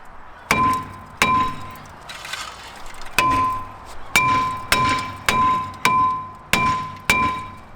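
A brake disc is hammered off the hub of a Lexus IS250, about nine loud, ringing metallic whacks in an uneven rhythm, each leaving a short clanging decay.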